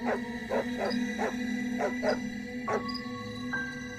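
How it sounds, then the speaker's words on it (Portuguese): A dog barks repeatedly in the distance on a quiet night, a string of spaced yips and bow-wows with some whimpering tones, faint and uneven in rhythm against a soft steady background. "Algum cachorro late ao longe."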